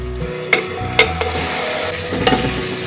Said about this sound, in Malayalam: തക്കാളി നല്ല സോഫ്റ്റായി വരുന്നവരെ നമുക്കിത് വഴറ്റാം